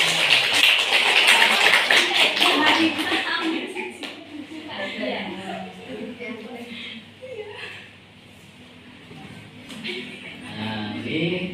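University students in a teaching-practice class at UIN Walisongo Semarang clap together briefly and loudly at first, then the clapping fades and a voice talks over the quieter room.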